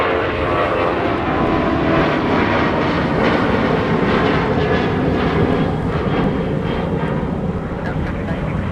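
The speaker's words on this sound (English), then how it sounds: "we had a departure off here. You can hear them, but you can't see them." A departing aircraft at snowy Minneapolis–Saint Paul airport gives a loud, continuous engine roar, with people talking over it.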